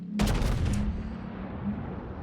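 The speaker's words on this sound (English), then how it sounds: "one problem of the Scharnhorst is of course she has rather small caliber guns" A battleship's small-caliber main guns fire in World of Warships, one sudden loud blast rolling into a long low boom that lingers to the end.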